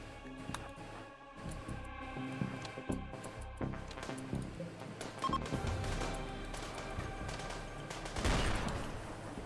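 Sniper rifle fire in a multiplayer shooter video game, with scattered sharp shots and bursts over busy in-game action and noise, and a louder cluster of blasts near the end.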